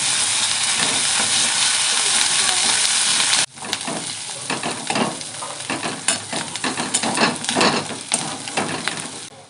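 Onion with garlic and ginger paste fries in mustard oil in a kadai. A loud, even sizzle gives way to more broken crackling and bubbling as the pastes are stirred in, with no voices.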